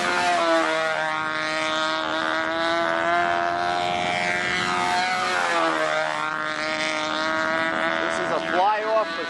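A model airplane flies during a fly-off to pick an entry for the nationals, its engine droning steadily with a high buzzing whine that shifts in pitch as it passes, with voices talking over it.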